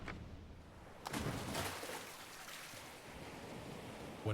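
Broad, steady wash of ocean surf in the point-and-click horror video game Dagon, with swells rising and falling, a low rumbling undertone, and no voices.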